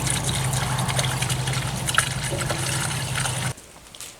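Coolant concentrate and water pour into a car engine in a steady, close trickling stream that stops abruptly near the end, leaving quiet.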